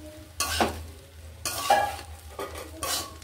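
Mixed vegetables are stir-fried together in a pan for a few seconds, with three distinct scraping stirs over a light sizzle, close by and without speech.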